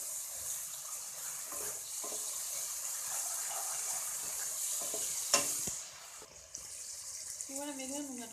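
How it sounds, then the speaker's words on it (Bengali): Spice masala for a rohu fish do pyaza curry sizzles steadily in the pan while being stirred. A sudden splash marks a little water going in, after which the hiss drops quieter and softer scraping continues. "জলটা দিয়ে ভালো করে কষাবো"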